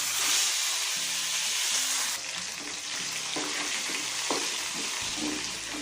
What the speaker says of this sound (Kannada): ಸಾಸಿವೆ ಹಾಕ್ಕೊಳ್ತಾ ಇದ್ದೀನಿ, ಸ್ವಲ್ಪ ಕರಿಬೇವಿನ ಸೊಪ್ಪು, ಆನಂತರ ಈ ತುಂಬಿಟ್ಕೊಂಡಿರೋ ಬದನೆಕಾಯಿನ ಹಾಕೋಣ